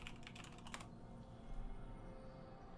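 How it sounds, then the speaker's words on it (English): Someone taps quickly on a computer keyboard, a short burst of crisp keystrokes in the first second, quiet and close, then a low hum of room noise. "And then I type in..."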